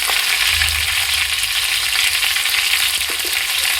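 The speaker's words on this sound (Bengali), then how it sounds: "এখন লবণ দিয়ে এই আলুগুলো আরও একটু ভেজে নেবো।" Potatoes and chopped tomatoes with salt frying in oil for a vegetarian pointed gourd dish, a loud, dense, continuous sizzle close by with no talking.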